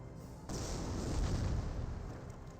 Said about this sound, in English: Some mortars are raining on it.